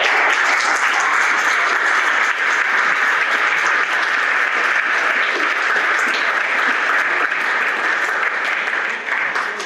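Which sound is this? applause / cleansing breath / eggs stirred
applause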